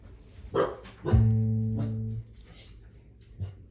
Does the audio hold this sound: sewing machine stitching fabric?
no